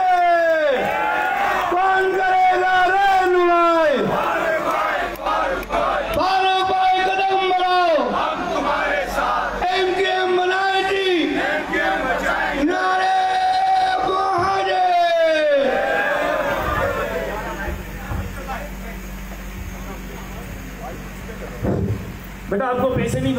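Crowd chanting slogans at a political workers' meeting in Hyderabad, Pakistan: loud, rhythmic call-and-response bursts of many voices repeating in waves for about fifteen seconds, then fading into murmuring crowd noise.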